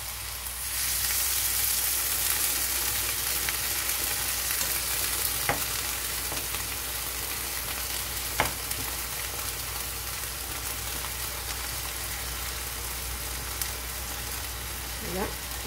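Frying potatoes and eggplant sizzle steadily in a pan, joined by a hiss as a large glass of water is poured in, with scattered sharp pops breaking the constant crackle.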